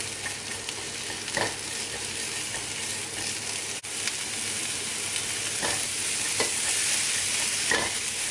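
Onions stirred and sautéed in a pan ahead of adding mushrooms, a continuous close sizzle broken by repeated scraping stirs of a utensil, with no voices.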